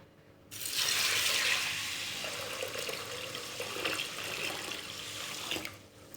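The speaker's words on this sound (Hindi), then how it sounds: "ये तकरीबन हाफ़ कुकर मैंने जो है पानी से भर दिया है।" Tap water gushes into a pressure cooker for red lobia dal until it is about half full, a strong steady rush that starts abruptly, eases slightly and cuts off near the end.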